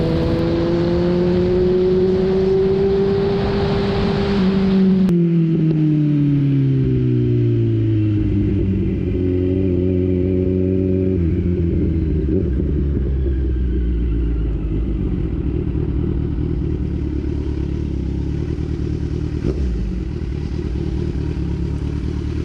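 A Kawasaki Z900 motorcycle being ridden, its engine droning loud and close throughout, with rising and falling pitch as the rider shifts gears and changes speed, no talking.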